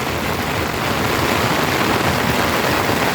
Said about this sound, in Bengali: বৃষ্টি আর বৃষ্টি বৃষ্টি সব ভরে যাইতেছে